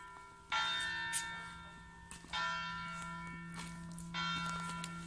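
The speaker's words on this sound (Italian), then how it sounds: "Le campane!" Church bells ring in slow, evenly spaced strikes, each tone ringing out and lingering before the next, heard from a moderate distance.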